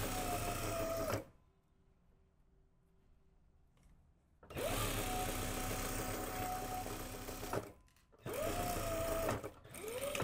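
A sewing machine runs a straight seam on a jacket in two long steady buzzing bursts split by a quiet pause, close and loud, then starts again briefly near the end.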